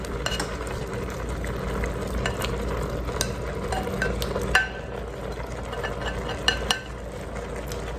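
Sausages frying in an Instant Pot for Creole red beans and rice: a steady close sizzle with scattered spoon scrapes and clinks, a couple of sharper knocks toward the end, and no voices.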